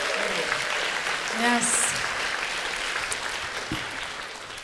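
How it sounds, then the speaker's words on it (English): Sustained round of audience applause at a Hague Talks session, steady and dense throughout, with a voice speaking briefly over the clapping. "Give him another round of applause."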